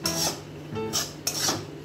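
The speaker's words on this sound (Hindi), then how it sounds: "धनिया पत्ता डाल के अच्छे से मिक्स कर दे रहे हैं।" Coriander leaves being stirred into a cooked dal stuffing for dal puri in a home kitchen, giving soft scraping and rubbing strokes of a spoon against the pot in short repeated bursts, close and moderately loud.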